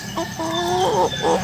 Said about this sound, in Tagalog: Yan po yung ating silky chicken.